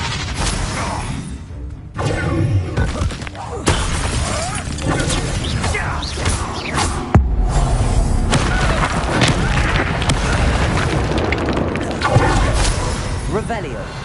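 A Confringo fire spell explodes in Hogwarts Legacy amid heavy booms, crashes and shattering impacts that keep coming, with a voice talking loudly over the chaotic combat noise throughout.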